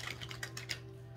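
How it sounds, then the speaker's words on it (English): An oracle card deck being shuffled by hand: quick, soft riffling bursts of card edges close by, repeating rapidly for about a second, then trailing off into a quiet room hum. "I'm just gonna go ahead and shuffle again."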